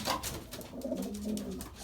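Belgian racing pigeons coo softly in their loft, a few low rolling calls close by, with faint rustling and no speech.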